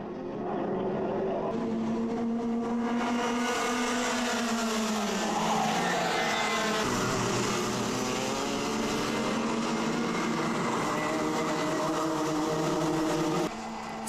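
Rotax Max racing karts at a Salbris championship round roar past with high, droning two-stroke engines that overlap and rise and fall in pitch, sounding continuous and fairly close.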